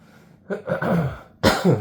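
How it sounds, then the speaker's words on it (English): A single throaty cough or throat-clear, a short rough burst followed by a second harsher one, close and fairly loud. "Well, sorry, I had to cough real quick."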